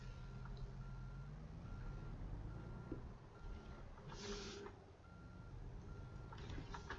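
A truck backing a trailer into a parking spot in American Truck Simulator, its steady reversing beeps repeating over a low engine rumble, with a brief hiss partway through.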